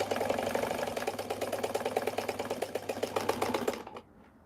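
Sewing machine stitching a bustier pouch along a princess-cut seam, a steady rapid mechanical chatter running close and loud for about four seconds before stopping abruptly, leaving faint room quiet.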